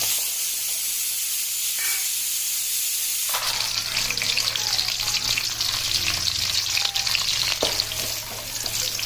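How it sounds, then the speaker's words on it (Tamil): Small onions dropped into hot oil with curry leaves, a steady bright sizzle that swells louder partway through as they hit the pan, with occasional stirring clicks; close and continuous, no talk. "கருவேப்பிலை சேர்த்ததுக்கு அப்புறமா இந்த சின்ன வெங்காயத்தை சேர்த்துருவோம்"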